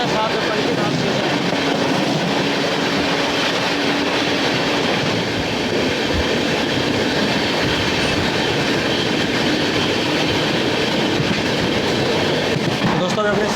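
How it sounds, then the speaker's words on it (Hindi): A train speeding through Panki Dham station while crossing the Vaishali Express gives a loud, sustained close roar of wheels and wagons with rhythmic clatter and occasional squeal, and a voice talks faintly beneath it. "अभी हमने स्किप किया पंकी धाम और क्रॉसिंग हुई वैशाली एक्सप्रेस के साथ"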